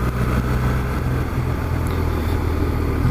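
A 2015 BMW R1200RT motorcycle's engine while riding, a loud, steady low drone with wind rush throughout.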